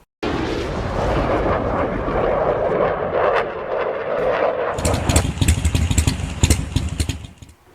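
A 2024 Harley-Davidson Street Glide engine rumbles loud and close, holding a steady roar before breaking into a choppy, pulsing idle near the end.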